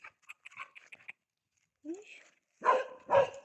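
A dog barks a few times close by, short loud barks after a brief stretch of voices and light yips.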